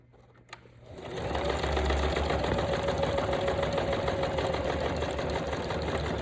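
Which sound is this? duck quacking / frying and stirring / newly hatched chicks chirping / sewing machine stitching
sewing machine stitching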